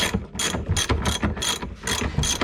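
A ratchet wrench with Craftsman sockets clicks in quick, regular strokes while tightening a bolt on the seat belt mount of a 1990 Fiat Uno Turbo i.e., loud and close with about six even bursts.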